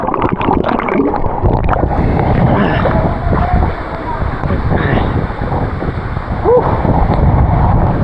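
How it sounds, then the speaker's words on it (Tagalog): Strong wind at sea buffets the microphone in a steady, loud roar, with water and boat noise underneath throughout. "ang lakas ng hangin niya"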